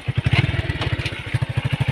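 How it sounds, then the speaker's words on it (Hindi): A motorbike engine putters in a steady, close pulsing rhythm as a rider sets off for a wedding, the low throbbing beats running continuously with faint clatter and no talk. "हम इस बाइक से जा रहे हैं"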